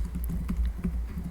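Light, rapid clicks of fingers on a computer keyboard, close and moderately quiet, rattle out in an uneven run without any talk.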